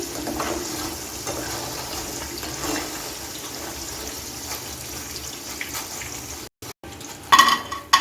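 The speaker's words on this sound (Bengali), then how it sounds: "হালকা ব্রাউন করে ভেজে নিয়েছি" Potato snacks fry to a light brown in a pan, giving a steady broadband hiss that holds throughout, briefly cuts out near the end, then returns a little louder.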